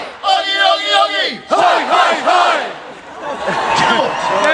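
A large outdoor crowd in Hyde Park roars a call-and-response chant, loud rhythmic group shouts in repeated bursts, swelling into sustained cheering.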